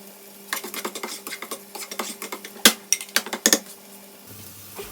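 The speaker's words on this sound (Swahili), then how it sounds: "Utakoroga mayai yako mpaka mayai yako yaive vizuri." Eggs being stirred in a pan for fried rice with shrimp, a utensil scraping and clinking against the pan in an irregular series of sharp strokes over a faint low hum.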